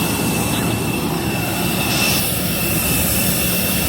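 Airplane jet engines roar steadily while passengers board the plane in Peru, a loud continuous whine and rumble holding close by throughout with no talking.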